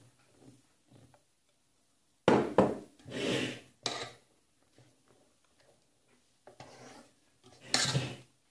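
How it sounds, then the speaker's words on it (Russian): A spatula folds flour into sponge cake batter in a bowl with a few separate scraping and rubbing strokes, close by, spread out between quiet pauses, with no one speaking. "Теперь будем вмешивать в них муку. Вмешивать будем при помощи лопатки."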